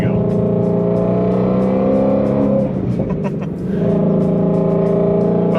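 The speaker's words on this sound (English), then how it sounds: "The exhaust sounds amazing." Supercharged Ford Shelby GT350 on its stock exhaust in sport mode revs loudly and steadily, with a brief dip in the engine note midway before it climbs again, close and continuous with no talk.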